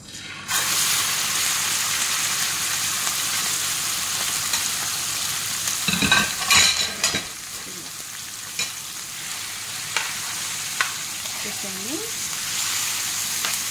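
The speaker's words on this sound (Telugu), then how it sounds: "ఇప్పుడు చికెన్ వేస్తున్నాను" Chicken pieces hit hot oil in a pan and set off a loud, steady sizzle that swells at the drop and keeps crackling, with a few sharp spatters and utensil clinks partway through.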